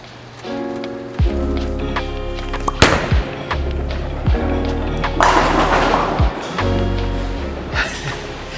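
A Storm Ion Pro Solid bowling ball rolls down a lane at West Seattle Bowl on a house shot and crashes into the pins, the rumble of the ball followed by loud clattering pin impacts and scattering rattles.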